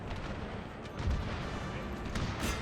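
Cannon volleys in a Total War: Thirty Years War battle as the Habsburg side, heard as a low, distant rumble of overlapping booms, with heavier thuds near one second and two and a half seconds.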